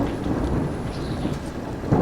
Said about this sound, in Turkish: Abi yağmur çok deli yağıyor ya